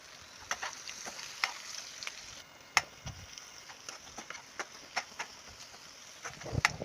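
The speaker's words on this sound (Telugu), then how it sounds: "ఇట్లా రెండు మూడు నిమిషాల పాటు మంచిగా ఫ్రై చేసుకోవాలి ఆనియన్స్" Onions and mint leaves frying and being stirred in a pan while cooking gongura chicken, a steady sizzle broken by sharp scraping clicks of the spoon at irregular intervals.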